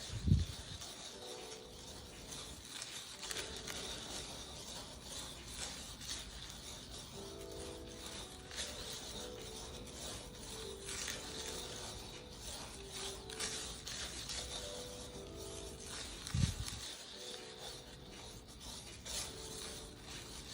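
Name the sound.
squishing pigment together to make watercolor paint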